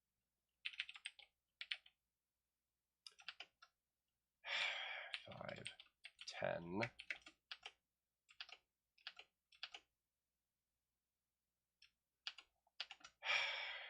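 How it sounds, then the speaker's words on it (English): Typing on a computer keyboard comes in quiet bursts of close key clicks separated by pauses, with a man's brief sigh and low muttering in between. "Keyboard misbehaving."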